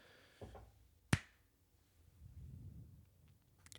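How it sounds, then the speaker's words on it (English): A single sharp hand clap, quiet and close, standing alone as one crisp crack amid faint room noise and soft rustling. "I did it. I clapped."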